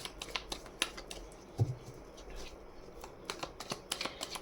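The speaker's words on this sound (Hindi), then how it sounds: "मैं इतने सारे कार्ड्स नहीं लेके फिर से शफल करती हूँ" Tarot cards are shuffled by hand in quick, soft riffling bursts with scattered light taps, quiet and close.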